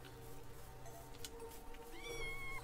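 A Minecraft cat gives a meow late in the moment, and bright tonal mewing rises over a quiet, busy game background.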